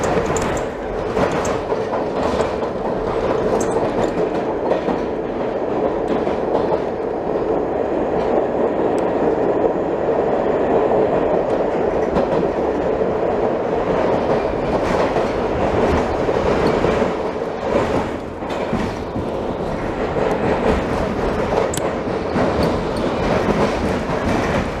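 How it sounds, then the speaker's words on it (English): A New York subway train runs through Nevins St, heard from the back car: continuous loud rumble with rhythmic clickety-clack of wheels over rail joints and occasional metallic squeals, steady for the whole stretch. "Next we stand at the back of the same train for the exit portal."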